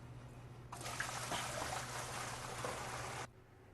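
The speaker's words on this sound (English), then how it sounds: "I'm going to dump that 4 gallons into the hopper." Four gallons of sanitizer solution poured into the hopper of a SaniServ Model 704 frozen beverage machine, a steady splashing liquid rush that starts abruptly, runs for about two and a half seconds, then cuts off over a low machine hum.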